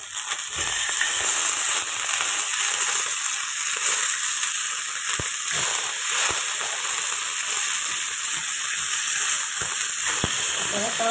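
Spicy fish frying crisp in a pan, a steady loud sizzle with bright hissing spread evenly throughout, a few faint knocks and stirs underneath.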